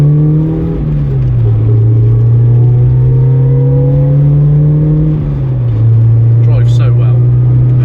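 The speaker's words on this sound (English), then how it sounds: "that's the diff whining in the back" Limited-slip differential in a Toyota AE86 whining from the rear while driving, a steady tonal drone that slides in pitch with speed over engine and road rumble, close and continuous throughout.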